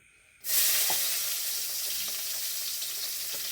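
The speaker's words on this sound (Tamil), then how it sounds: "எண்ணெய் சூடாயிடுச்சு வெங்காயம் பச்சை மிளகாய் கருவேப்பிலை எல்லாத்தையும் சேர்த்து போட்டு" Onion, green chilli and curry leaves drop into hot oil and burst into a loud, steady sizzle that holds close and constant, with faint stirring taps underneath.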